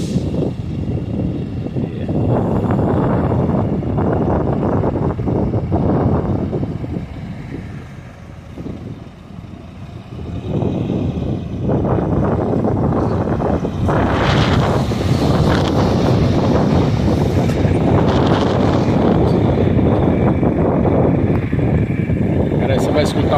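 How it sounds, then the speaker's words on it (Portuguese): Strong wind gusts roar and buffet the microphone in loud, rumbling surges, dropping briefly midway before rising again, outdoors at a sugarcane mill yard. "O barulho aí tá ventando muito aqui."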